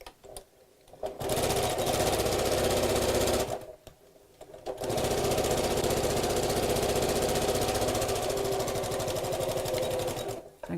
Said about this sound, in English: we're going to sew around the curve